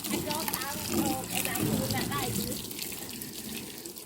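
Water sprays steadily while a car is washed outdoors, a continuous hiss and splash close by, with someone talking over it.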